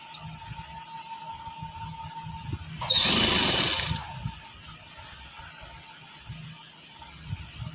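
A sewing machine runs in one short burst of about a second while stitching a sleeve onto a kameez, a loud steady whir rising sharply out of a quiet room and then stopping.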